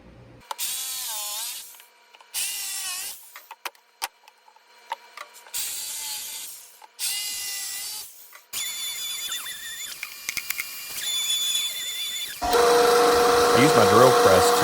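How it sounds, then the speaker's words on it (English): A jigsaw cutting a board buzzes in several loud bursts, each a few seconds long, with pauses between, then runs steadily at the end; close and harsh. "I'm going to try to cut these with a jigsaw."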